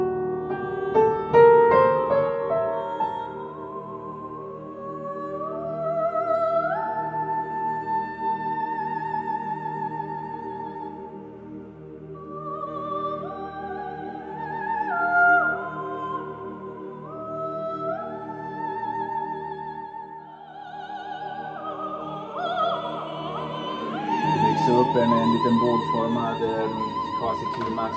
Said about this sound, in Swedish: Nu kommer sopranen.